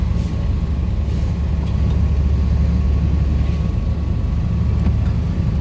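A car rolls slowly down a mountain road, held back gently so the brakes don't overheat. A steady low rumble of engine and tyres runs throughout with no talking.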